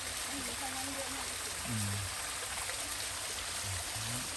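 Water rushes and trickles steadily along a stream, a constant hiss with faint low voices murmuring in the background.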